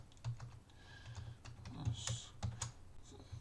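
Quick light keystrokes on a computer keyboard while an email recipient address is entered, a close, fairly quiet run of irregular clicks with no talk.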